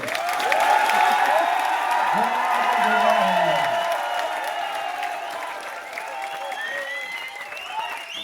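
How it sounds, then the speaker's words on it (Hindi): Loud audience applause with cheering at a Hindi-language gathering honouring a guru, a dense sustained roar that eases slightly toward the end, with a voice rising over the crowd partway through. "ऐसी तालियों से काम नहीं चलेगा।"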